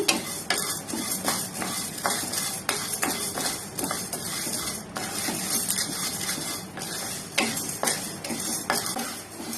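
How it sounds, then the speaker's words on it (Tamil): Idly podi ingredients dry roasting in a pan, stirred continuously with a utensil, giving repeated scraping strokes and a soft crackle close by, with no talk. "இப்போ இதை நல்லா பொன்னிறமா ஆகிற அளவுக்கு நல்லா வறுத்து விட்டுக்கலாம்."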